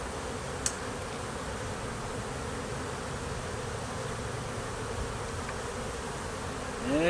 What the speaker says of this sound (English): this is a small hive